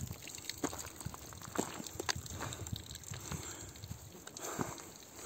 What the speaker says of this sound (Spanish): ahí tenemos una fuente para reponer agua